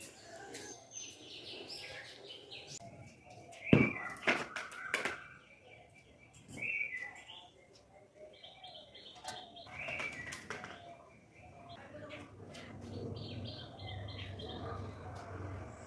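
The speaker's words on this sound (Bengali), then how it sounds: "তো শুনলাম পাখির ডাক। তোমরাও শোনো।" Pigeons coo and small birds chirp on a house rooftop, calls scattered near and far, with a sharp burst of wing flapping partway through and no voices.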